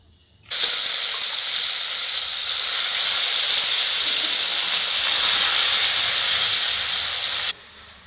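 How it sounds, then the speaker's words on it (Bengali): Pineapple pieces fry in hot oil with fennel seeds for a sweet chutney. A loud, dense sizzling hiss starts abruptly, holds steady for about seven seconds, then cuts off. "এবার আনারসটাকে নাড়তে নাড়তে ভালো করে ভেজে নিচ্ছি"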